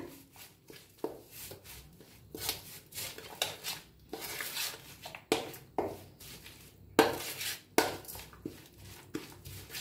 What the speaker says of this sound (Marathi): आता याला चांगलं जरा मिक्स करून घेऊया